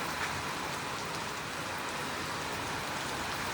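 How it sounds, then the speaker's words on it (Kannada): Rain falls steadily on a village home, a soft continuous hiss of drops on surfaces, fairly faint and unbroken with no voices. "ಗಾಯ್ಸ್ ಮನೆಗೆ ಬರೋಷ್ಟಿಗೆ ಏನದ ಮಳೆ ಬಂತ್ರಿ."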